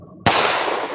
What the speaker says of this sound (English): Why does that sound like a gunshot?